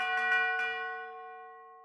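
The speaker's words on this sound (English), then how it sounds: "This tubular bell sounds sick." A single tubular bell sample in a Detroit-style beat strikes a few quick times, then rings out alone with a bright, sustained metallic tone that slowly fades.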